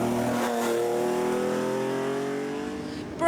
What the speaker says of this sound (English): Always a welcome sight and sound on the stages is the Porsche 911 of Monaghan driver Brendan McRae.